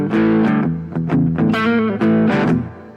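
Distorted electric guitar blues lick in a guitar lesson: a few picked notes, a slide into a blue note on beat three, then a quick chord and a stop, loud and close with no talking.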